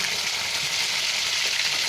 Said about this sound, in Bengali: আমি একটু লাল লাল করে ভেজে নেবো মাছগুলো